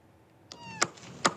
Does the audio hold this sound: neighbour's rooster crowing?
no